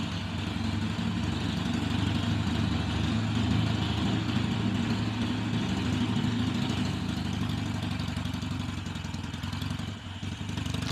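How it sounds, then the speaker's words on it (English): A Harley-Davidson Iron 883 idles indoors, its exhaust producing a steady, loud, low rumble that echoes off the surrounding walls for the whole stretch. "all the noise of the exhaust echoing in here"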